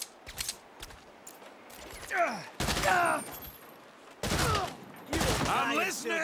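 Repeated bursts of gunfire in the video game Saints Row, loud volleys separated by short gaps, with a voice shouting between the shots.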